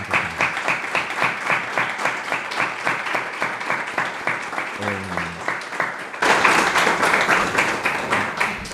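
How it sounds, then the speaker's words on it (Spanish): Audience applause at the presentation of Carmelo Gómez's book 'Cuidar y Sufrir', a dense, steady run of clapping that swells noticeably louder for the last couple of seconds. "un currículo como este se merece un aplauso y un reconocimiento de todas las personas que están aquí"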